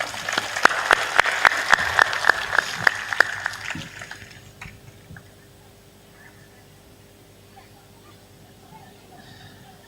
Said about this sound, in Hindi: बस ताली बजा दो एक बार।